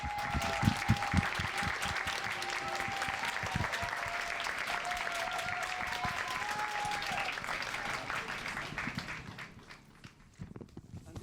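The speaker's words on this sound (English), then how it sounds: "give Minsuk Cho a very warm welcome and big round of applause" Sustained audience applause welcoming architect Minsuk Cho at a Serpentine Pavilion 2024 conversation event, a dense steady clapping wash that holds for about nine seconds before thinning out at the end.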